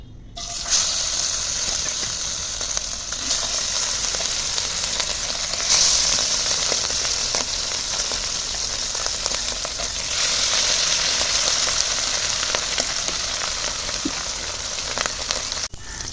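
Hilsa fish pieces coated in salt, turmeric and chilli powder fry in hot oil with a loud, dense, unbroken crackling sizzle that swells and settles for about sixteen seconds.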